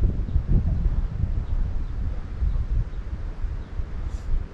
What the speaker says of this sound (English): Wind's playing havoc with me at the moment though.